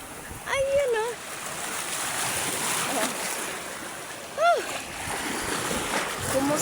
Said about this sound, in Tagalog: Andito ako sa may dagat